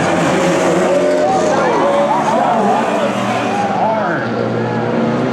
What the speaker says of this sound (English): The 68 car getting sideways.